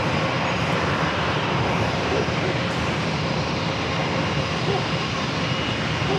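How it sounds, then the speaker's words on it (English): Jet airliner bound for Boston at San Diego airport gives off a steady, broad engine roar at even loudness from start to finish, with no voices. "Now that's the flight heading to Boston right there, the E321."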